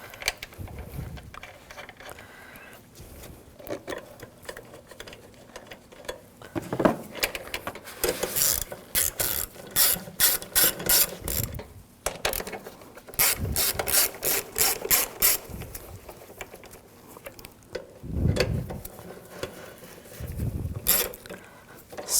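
Ratchet driving screws into the air intake of a 2007-2013 BMW 328i with a 3.0L inline-six, heard as quick bursts of close, dry clicking separated by short pauses and faint handling noises.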